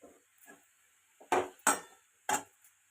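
A utensil scrapes and knocks against a pan as colostrum milk mixture with ghee is stirred. Three sharp, close clatters sit among softer taps in an otherwise quiet kitchen.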